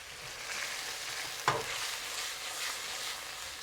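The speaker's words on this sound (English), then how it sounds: "Just swirl the fish around in the sauce, right? To get it coated evenly with the sauce." Fish fillets stirred through a sizzling, cornstarch-thickened garlic sauce in a pan for a Chinese-style dish, giving a steady soft sizzle with one brief scrape or clink partway through, no voices.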